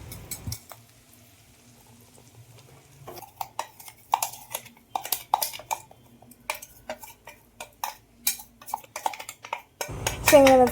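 Ground peanuts and green chili sautéed in hot oil in a pan, heard as a run of sharp utensil taps and scrapes against metal, spaced irregularly, with a loud burst of clatter at the close.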